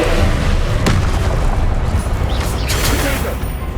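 A Confringo spell in Hogwarts Legacy goes off as a loud, close, booming blast that rumbles and pops through a dense stretch of game noise, with a voice shouting over it.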